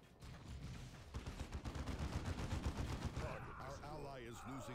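Battle gunfire in the real-time strategy game Warhammer 40,000: Dawn of War 2 Chaos Rising comes as a dense run of rapid shots and thuds. A voice speaks over the final stretch.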